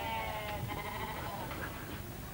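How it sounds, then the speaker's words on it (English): A billy goat bleats in a farmyard, a wavering, nasal call held through most of the stretch, fairly close and loud over steady background noise. "That's right, a billy goat."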